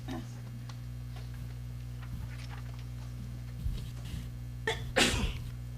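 During a Scout ceremony before the Pledge of Allegiance, a faint, sharp sneeze bursts out near the end over a steady low hum in a quiet room, with a smaller sound just before it.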